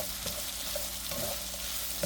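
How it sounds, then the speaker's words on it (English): Chicken, onions and orange bell pepper are stir fried together on one side of a pot, giving a steady close sizzle with occasional scrapes and stirring knocks and no voices. "start stir frying this on one side of the pot"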